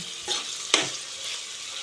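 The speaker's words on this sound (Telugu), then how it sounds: "నూనె ఎలా మరుగుతుందో" Oil heated on high flame in a pan gives a soft, continuous sizzle, with two brief louder crackles standing out near the start.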